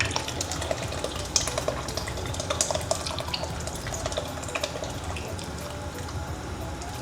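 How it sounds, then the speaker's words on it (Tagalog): Evaporated milk pours into a pot of chicken sopas, a soft continuous splashing and trickling with small drips, fairly quiet and close, with no talk over it. "lagyan na natin yung ating evaporated milk"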